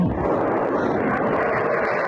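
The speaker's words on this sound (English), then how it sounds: "That sound you hear, that is the cannons firing up." Fighter jet cannon firing in rapid bursts at a drone at close range, a dense continuous roar of rapid gunfire blended with engine noise, loud and sustained throughout.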